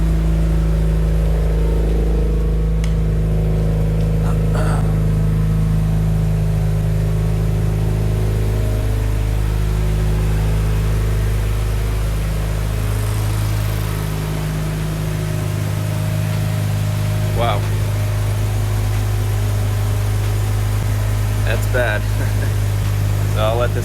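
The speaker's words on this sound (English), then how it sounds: "Let this run, burn everything off, see how bad it is." A flooded Mazda RX8 rotary engine runs steadily at a rough idle after finally starting, a loud continuous drone throughout with a few brief clicks and faint voices.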